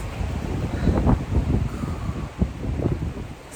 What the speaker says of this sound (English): I have this over my ears because it's very windy